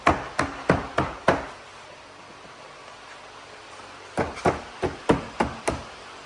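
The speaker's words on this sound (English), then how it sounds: "give it a little love tap on the bottom, make sure that they're all snapped in" Plastic rocker panel clips on a 1998-or-later Ford Crown Victoria being tapped into place: two quick bursts of four or five sharp, close knocks, separated by a few seconds of quiet.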